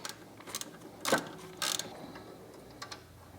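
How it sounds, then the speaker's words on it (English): A ratchet wrench loosening a 12mm bolt that clamps fuel lines to a fuel filter bracket, heard as a few short bursts of close ratcheting clicks separated by quiet gaps, with no talking. "Just taking this 12mm bolt out, it clamps these lines to that fuel filter bracket."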